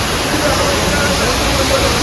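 Loud, constant roar of a waterfall beside the Kedarnath mountain trek, a thick unbroken rush of falling water heard up close, with a faint voice buried beneath the noise.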